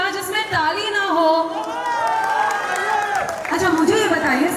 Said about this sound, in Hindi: इधर ये लोग तालियां क्यों बजा रहे हैं?